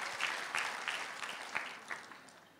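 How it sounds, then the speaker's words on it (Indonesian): A church congregation applauding during a Sunday-morning prayer service, steady, moderately distant clapping from many hands that holds evenly for under three seconds and slowly tapers off. "Tepuk tangan dulu buat Tuhan Yesus"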